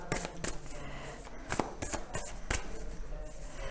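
Tarot cards are handled and laid down with quick papery flicks and slaps, several sharp card snaps over soft shuffling rustle, close and clear.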